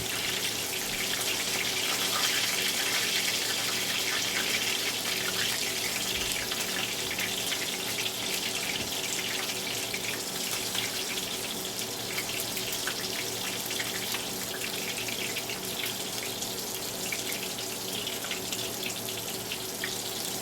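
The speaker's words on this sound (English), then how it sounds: "While that's being fried, I'm going to add some more to it." Fish frying in a large pot of hot oil gives a steady, dense crackling hiss that holds close and even for the whole stretch, with no voices.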